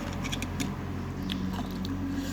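Close-up biting and crunchy chewing on chicken feet in a spicy Thai papaya salad, steady and continuous with a low background hum and no talking.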